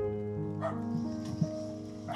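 A dog barks a few times in a quiet, deserted village neighbourhood, with short yips and a low whimpering tone over a faint steady hum in the background.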